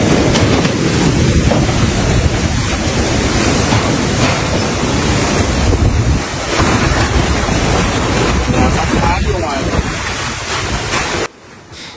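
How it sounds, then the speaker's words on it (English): Large storm waves whipped up by Typhoon Kalmaegi pounding the coast near Quy Nhon, Vietnam, a loud continuous roar of crashing surf and howling wind that cuts off abruptly near the end. "The storm also caused large waves and rising sea levels along the coasts of provinces from Quang Ngai to Dak Lak."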